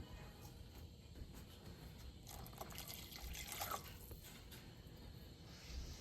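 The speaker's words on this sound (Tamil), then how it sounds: "இன்னும் கொஞ்சம் தண்ணி ஊற்றிக்கலாம்" Water poured into a simmering tomato curry on the stove, a quiet trickling and splashing pour, faint and close, with a brief stronger splash in the middle.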